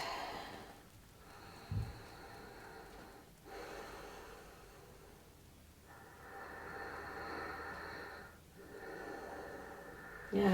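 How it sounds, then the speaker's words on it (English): Slow, deep breathing during a pelvic floor exercise, several long inhale-exhale cycles with an even rhythm of about two to three seconds each. The breaths are close and soft, with no talking. "Let's go for 2 more long breaths."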